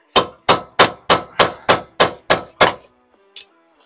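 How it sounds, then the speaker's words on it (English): A lump hammer strikes the bottom ball joint of an Audi A3's suspension during gearbox removal: nine heavy, evenly paced metallic blows, close and loud, then a few faint clinks. "Got a big hammer there? Big hammer? Yep. Lump hammer?"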